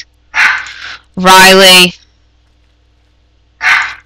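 A dog in The Sims 2 barks in short loud bursts, with a voice speaking a name between the barks.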